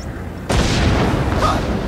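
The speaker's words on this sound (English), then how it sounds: "Car bombs. If they go off here, it'll be a disaster." In a video game, a sudden loud boom of car bombs erupts after a brief quiet moment, followed by a sustained rumbling roar of explosions and debris.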